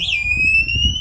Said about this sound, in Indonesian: ini nanti kalau digoyang-goyang atau dibedal ini sudah bunyi. Ada tanda bunyi.